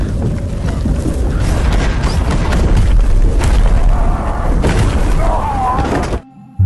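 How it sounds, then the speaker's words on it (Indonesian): Dense, rumbling booms and heavy blasts roll continuously, like a barrage of cannon fire, with faint voices underneath before an abrupt cutoff near the end. "Dengan gempuran hujan meriam di mana-mana"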